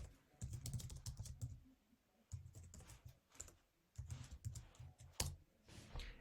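Fingers type on a computer keyboard in quick close bursts of clicky keystrokes, with brief pauses between runs.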